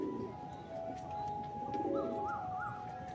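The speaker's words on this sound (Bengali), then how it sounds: "আমারই লোকটের দুটো গিরিবাজ পায়রা" Giribaz pigeons coo softly in a loft, a few rolling, repeated coos rising over a low steady background hum, fairly faint and close, with no talking.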